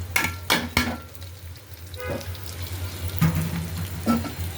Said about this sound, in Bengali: তো এখন আমি দিয়ে দিলাম পোলাওর চালটা